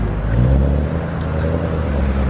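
A Honda S2000 engine drones low and steady nearby, a continuous rumble that holds fairly even without clear revving peaks.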